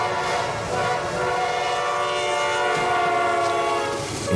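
A train's horn blares in a long, steady, loud chord that holds without a break, with rail rumble beneath it at a level crossing in Elkhart County where a vehicle is stuck on the tracks.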